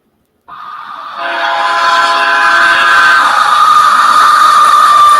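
Trains pass close by, a loud sustained horn blast building and holding steady over the rumble of the cars, with no talking.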